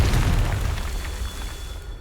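A Confringo blasting spell explodes in a Harry Potter video game, a deep booming burst that hits hard at the start and then rumbles and fades over the next two seconds.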